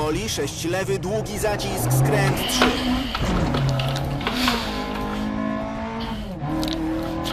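Rally car driven at high speed in the video game DiRT Rally 2.0, a loud continuous engine roar with rising and falling gear tones, heard under steady talking throughout.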